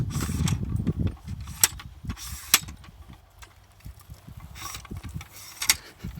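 Survey tripod legs being loosened and clamped while setting up a Trimble R10 RTK unit: a series of close, sharp metallic clicks and clunks spaced irregularly, with quieter handling rustle between them.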